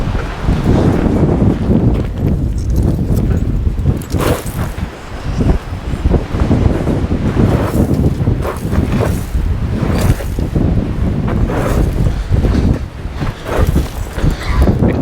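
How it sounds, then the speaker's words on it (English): Strong desert wind buffets the microphone at a solo tent campsite, loud gusty rumbling that surges and dips in waves for the whole stretch. "kind of sucks that it's really windy right now"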